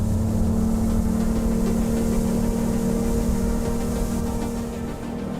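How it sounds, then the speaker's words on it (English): A loud, steady V6 engine roar from a Rinker 19QX boat at wide open throttle, droning continuously with rushing wind and water noise throughout. "listen to that engine. Wide open, it sounds fantastic."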